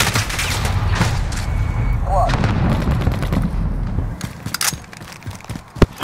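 Dense gunfire from an enemy sentry gun in Call of Duty Modern Warfare, sustained bursts of shots and blasts layered over battle noise, with game voices calling out over the fighting.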